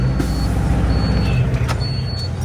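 A truck or tractor hauling big square bales of haygrazer pulls away in a low gear, its engine a loud, steady, deep rumble close by that holds constant throughout.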